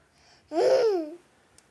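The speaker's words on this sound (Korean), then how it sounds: "지금 아기가 들어와서" A baby girl babbles close by in a room for about a second, a single bright, rising and falling vocal burst, with no talking during it.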